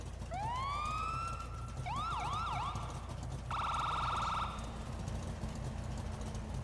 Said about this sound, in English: 1 through 3, there's different siren sounds